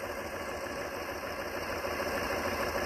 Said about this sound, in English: I'm just going to sew on the line.